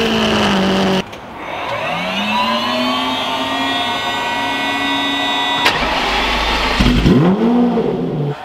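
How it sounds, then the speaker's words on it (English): A Nissan Z with stock exhaust cold starts, cranking briefly, catching and revving up, then settling into a steady idle with a harmonic exhaust hum before revving again near the end. "This is a cold startup on a stock exhaust Nissan Z."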